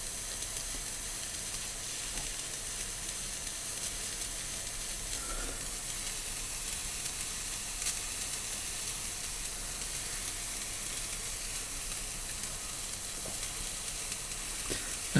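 A small steam engine being heated at about 1400 metres altitude, used to drive a generator, gives off a continuous broadband hiss of escaping steam, steady and unbroken throughout with a few faint clicks.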